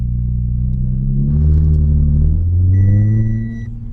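Supercharged Audi bought at auction with a transmission fault, driving off with a deep steady engine rumble that rises as it accelerates, plus a brief high warning chime partway through.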